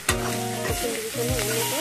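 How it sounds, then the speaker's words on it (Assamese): Kuchia eel frying in a pan, a steady loud sizzle with stirring scrapes, while someone speaks briefly over it. "5 মিনিটমান ভালকৈ ভাজি ল'ব।"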